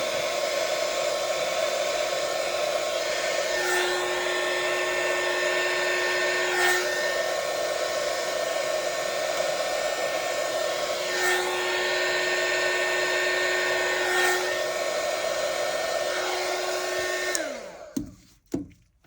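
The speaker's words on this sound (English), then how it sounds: "I'm going to use my bigger torch just to heat that up a little bit" A large torch heats resin in a beach-themed eco trinket tray, producing a steady loud roaring hiss with a faint whine that holds for about seventeen seconds, then cuts out, followed by a couple of small clicks.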